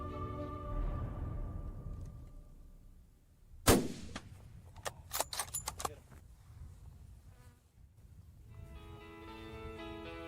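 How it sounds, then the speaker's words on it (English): A single sharp rifle shot during an Arizona antelope hunt, loud and sudden in open country, followed by faint rattles and buzzing insects with distant engine hum. "Great shot, Ron."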